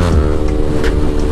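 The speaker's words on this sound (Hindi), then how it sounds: "अपनी बाइक जो है ना क्रैकलिंग निकालती है, फायर शॉट देती है" A motorcycle engine runs loud and close in a steady drone, with a few sharp exhaust crackles popping through near the end.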